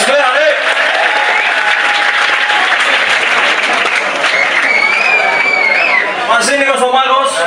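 A live audience at a Chania blues performance claps loudly and continuously, with a few whoops and scattered voices mixed in; someone talks over the applause near the end.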